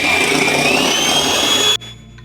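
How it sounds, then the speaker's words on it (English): Hand mixer beating two egg whites in a bowl, a loud steady motor whine with a bright tone running continuously before cutting out abruptly near the end. "Since I've only got 2 egg whites in here, might as well use the hand mixer"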